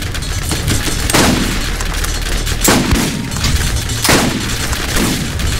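Gunfire rings out in a Borderlands co-op session, several loud sharp shots spaced more than a second apart, each with a booming tail, over a dense, steady background of game noise.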